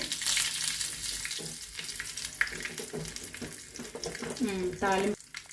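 Curry leaves, dried red chillies, mustard seeds, cumin and urad dal sizzling in hot tempering oil for a coconut tomato chutney; loud, busy frying with crackles, spatters and a clatter of utensils, rising toward the end, without speech.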